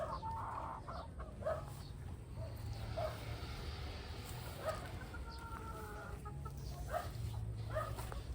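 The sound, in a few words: chickens clucking in a backyard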